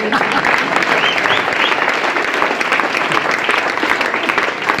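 Audience applause at a business success-story seminar, dense steady clapping from a large crowd filling the room continuously throughout.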